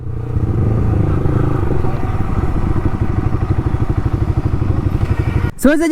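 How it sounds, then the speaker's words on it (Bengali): Loud motorcycle exhaust with the dB killer removed, a steady close engine drone with rapid pulsing firing beats throughout, ending in a sharp clatter; a voice talks over it. "ওর বাইকটা ডিবি কিলারটা খোলা রয়েছে"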